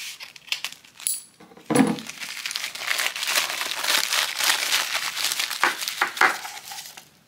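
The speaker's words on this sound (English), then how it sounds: "let me unwrap the chain for you too" Crinkling and rustling of packaging as a Coach wallet chain is unwrapped, with a sharp metallic jingle of chain links near the start, followed by steady close-up crumpling.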